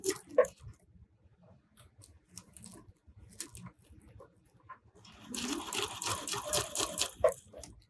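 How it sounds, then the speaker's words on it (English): A sewing machine slowly sews a quarter-inch seam on lace for lingerie. Faint handling noises come first, then a close, steady run of stitching fills the last few seconds. "I'm just going to slowly go forward and sew a 1/4 inch seam"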